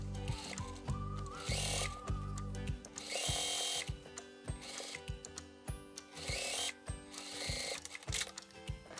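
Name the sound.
sewing machine stitching a sleeve cuff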